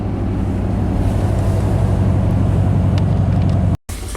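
A 1991 Chevy K1500 pickup truck cruises down the road with a steady, loud, low engine and road drone mixed with wind rush. The sound cuts out abruptly for a moment near the end.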